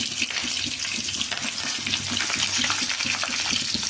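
Vegetables and green chillies sauteing in a pan for rava upma as onion goes in: a steady, dense sizzle and crackle with soft stirring clatter, close and continuous, no talk.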